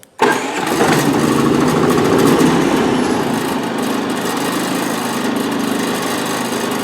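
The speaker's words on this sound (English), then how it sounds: "So in order to start the generator, you'd press button number 1." Powerhorse 3500 portable generator started by wireless remote: a brief click, then the engine catches and runs with a loud, steady close-up drone and no voices.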